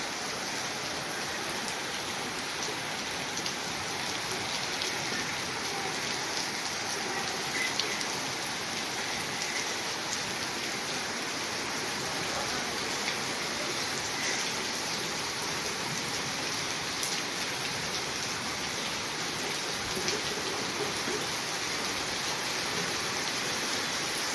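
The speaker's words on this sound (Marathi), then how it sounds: "वरवंडीत वादळी वाऱ्यासह मुसळधार पाऊस" Heavy, unbroken downpour with a strong windstorm in Varwandi, hissing steadily across the whole stretch, dense rain noise with a gusty, windy edge and no speech.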